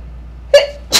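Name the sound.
sneeze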